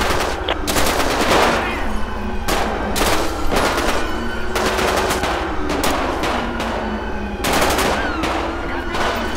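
Rapid bursts of automatic gunfire and single shots crack repeatedly in a police shootout in the video game LSPDFR, loud and close, with a steady engine-like hum underneath.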